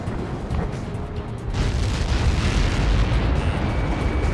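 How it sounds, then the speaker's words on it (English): A large explosion in the video game Ace Combat 7 from Helios projectile impacts, a broad rumbling blast that swells after about a second and a half and sustains loudly to the end. "How many got caught in that explosion?"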